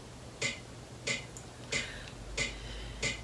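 Metronome ticking at 92 beats per minute during piano practice: five crisp, evenly spaced clicks, faint and close over a low background hum, with no talking.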